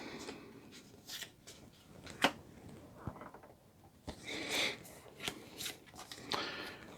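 Card dealt onto a table during a Marvel Champions solo game, a soft brief slide and snap of cardboard among other quiet shuffling and handling noises, close and faint.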